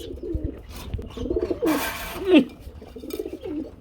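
Fancy pigeons coo close by in a series of low, throaty calls, with some scuffling and background noise between them.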